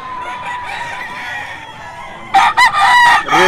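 A regular gray gamecock rooster crows loudly and close, one strong cock-a-doodle-doo breaking out after a stretch of steady background hum.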